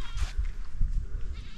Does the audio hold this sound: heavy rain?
no